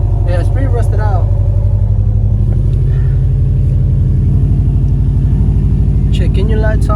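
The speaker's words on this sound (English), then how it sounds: "Rattling noise. It's probably the exhaust" A 2003 Subaru WRX idles with a loud, steady engine rumble and a rattling, rusted-out exhaust with a hole in it, a continuous throbbing drone with voices talking over it.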